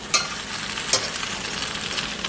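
Eggs cooking with tortilla pieces in a pan give off a steady, close sizzle with two brief scraping stirs near the start, continuous and unaccompanied by any voice.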